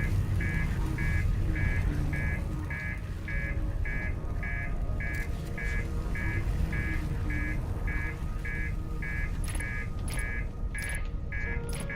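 Master alarm aboard a spaceship in the game Outer Wilds: a steady, repeating electronic beep pulsing roughly twice a second throughout, loud and regular over a constant low rumble of ship noise.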